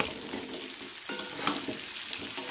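Fried chicken pieces for spicy chilli chicken are stirred in a hot frying pan, giving a continuous close sizzle with scraping spatula strokes and a sharper clink midway, no voices.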